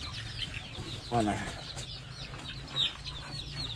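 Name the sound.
free-range chickens clucking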